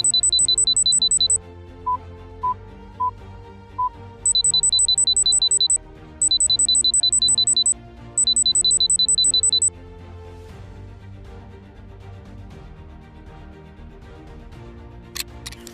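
Beeping signal tones from a UIG Watch, a small handheld cavity, treasure and precious metal detector, in rhythmic bursts of rapid high pips with a few single beeps between, clear and close, with no speech.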